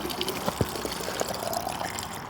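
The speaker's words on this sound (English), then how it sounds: "squeeze it, and the water goes right through the filter just like that" Water squeezed by hand through a survival straw filter, a soft continuous trickle and spatter with small drips, close and fairly quiet, with no talking.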